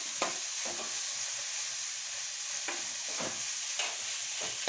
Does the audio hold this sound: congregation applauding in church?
no